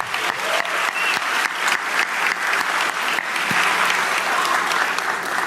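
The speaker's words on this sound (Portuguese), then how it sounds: "Luciano Hang, uma salva de palmas para ele também." Sustained, dense applause from a large political event audience greeting businessman Luciano Hang, steady and fairly loud throughout with no voices standing out.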